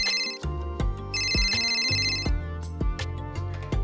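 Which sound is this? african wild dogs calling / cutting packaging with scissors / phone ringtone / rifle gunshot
phone ringtone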